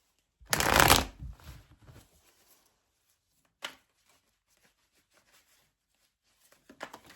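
A deck of tarot cards is shuffled in one loud riffling burst near the start, followed by quieter card handling, a single sharp snap midway and soft shuffling again at the end, with no talking.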